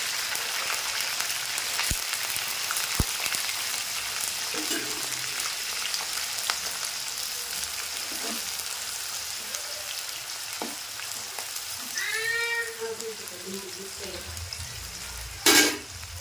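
Onions and curry leaves crackle and sizzle steadily in a hot pan, a continuous close frying hiss with occasional faint stirring clinks and a brief knock near the end.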